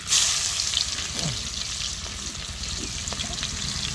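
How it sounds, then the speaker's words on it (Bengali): Dried red chilli, cumin seeds and bay leaf crackle and sizzle in hot tempering oil after fried potatoes, a loud continuous close sizzle with occasional stirring scrapes. "ফোড়নে দিয়ে দিচ্ছি শুকনো লঙ্কা, জিরা, তেজপাতা"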